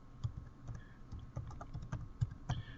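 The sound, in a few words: typing on a computer keyboard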